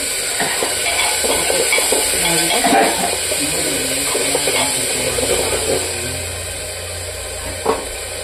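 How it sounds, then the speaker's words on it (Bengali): Spices fried in oil for a Bengali dal with water poured into the pan, giving a steady sizzle with stirring and occasional utensil clinks against the pot; no one speaks. "মশলাটা ভাজা ভাজা হয়ে গেছে, তেল ছেড়ে দিয়েছে, তাই আমি অল্প জল দিয়ে দিচ্ছি।"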